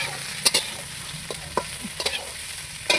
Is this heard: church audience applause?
no